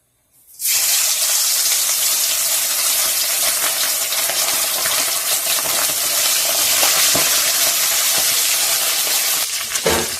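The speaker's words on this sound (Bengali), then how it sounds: "তেল থেকে ধোঁয়া ছাড়ছে মানে তেলটা আমার গরম হয়ে গেছে এবার আমি মাছগুলো ভেজে নেব" Fasha fish fry in smoking-hot oil in a pan: after a brief silence, a loud, dense sizzle bursts in and crackles steadily and continuously to the end, with no talking.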